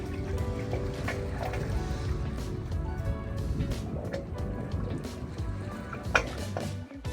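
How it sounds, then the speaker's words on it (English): A single pipe of the Wave Organ, a wave-activated acoustic sculpture on a bay jetty, gives a low hollow tonal drone under steady water wash and wind, with one brief knock near the end. "The Wave Organ is a wave-activated acoustic sculpture located on a jetty in the bay."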